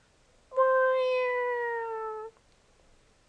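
A person imitates a cat with a single drawn-out, tonal meow lasting under two seconds, clear and close, surrounded by near silence.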